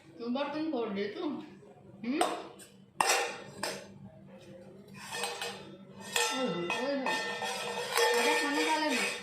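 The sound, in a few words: metal utensils and dishes clattering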